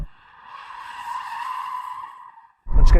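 Audi RS6 tyres squeal in a sustained, fairly loud screech for about two seconds as the car attempts a drift, fading out before a burst of rumbling wind or engine noise.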